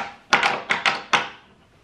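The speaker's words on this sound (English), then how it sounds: "this is what I love on the houses this age, is the latch doors." An original latch door in an old house rattles and knocks through a series of five sharp wooden clunks in quick uneven pairs, close and fairly loud, each decaying briefly, then quiet with no voices.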